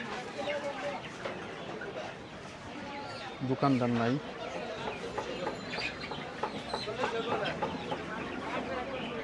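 Chickens cluck and squawk in a busy poultry market at Tongi Bazar on the Turag riverbank, with one loud, near squawk in the middle. People talk over the steady clucking.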